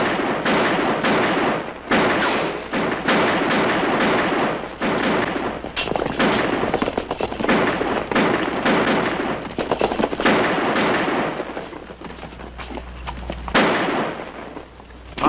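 Dense, rapid gunfire rattles without pause in a western shootout as guns shoot up equipment, shots crackling loud and close in overlapping bursts over a low rumble, easing slightly near the end.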